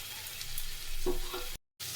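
Ground cumin, coriander, salt and Kashmiri chilli powder stirred into capsicum and potatoes frying in a home kitchen pan, a steady sizzle with scraping stir strokes, briefly cut to silence near the end.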